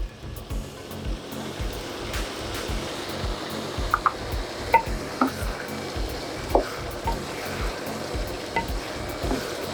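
Dry prawns stirred into a sizzling pot of jambalaya rice with banga and coconut milk, with a steady rhythm of spoon scrapes and stirring bursts over a continuous close fry.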